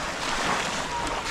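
Sea waves wash heavily around a boat out on the open water, with a steady, loud rush blended with wind buffeting the microphone.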